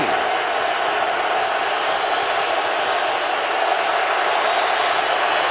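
Stadium crowd roaring during a 2015 NFL game between the Vikings and 49ers, building noise on third and six in the red zone; a steady, dense wash of cheering with no let-up, loud and continuous throughout.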